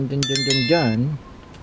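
A notification bell sound effect: a quick burst of bright bicycle-bell-style dings, then a short gliding, voice-like tone that fades out.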